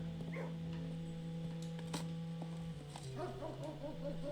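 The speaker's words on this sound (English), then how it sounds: "Good dog." A dog in the video game Blue Prince makes soft whimpers and small yips over a steady droning musical background, fairly faint and without talking.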